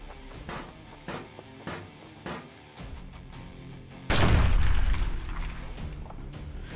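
Thuds and booms go off at intervals, then a big close explosion erupts with a long rumbling roar, like battle noise in a trench as a las cannon is blown apart.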